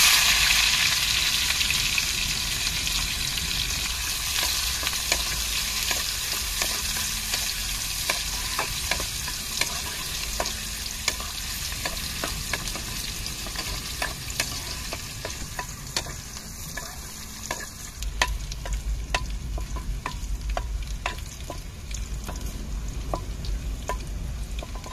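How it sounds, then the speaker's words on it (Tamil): Fennel seeds and shallots fry in hot oil for a mutton curry, giving a steady, close sizzle with light stirring clicks throughout and no talk. "தாளிக்கிறதுக்கு சோம்பு சேர்த்துக்கிருவோம், அதுக்கப்புறம் சின்ன வெங்காயம் சேர்த்துக்கிருவோம்."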